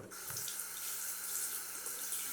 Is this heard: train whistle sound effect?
no